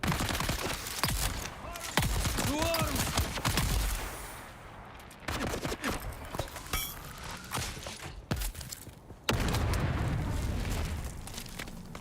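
Shotgun blasts in the video game Dune: Awakening, with several loud, sharp shots and booming bursts mixed with metallic game effects and gunfire across the scene.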